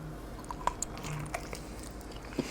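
Quiet bites and crunchy chewing on air-fried Maryland style chicken, a few soft, close crunches scattered over a couple of seconds with no talk.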